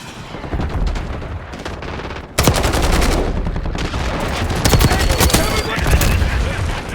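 The Archangel scorestreak fires in Black Ops 6 as a dense, loud barrage of rapid gunfire and impacts that runs the whole time. The firing grows heavier partway through and is backed by constant game noise.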